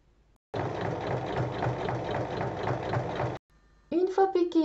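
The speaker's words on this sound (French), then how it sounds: "On place endroit contre endroit et on pique sur la hauteur." A sewing machine stitches flap pieces of fabric placed right sides together, a loud steady mechanical whir lasting about three seconds before it stops, followed by a brief voice.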